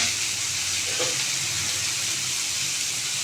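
Onions and chillies sauté with salt in a pan for a Kerala-style fish molee, giving off a steady, dense sizzling hiss throughout without pause.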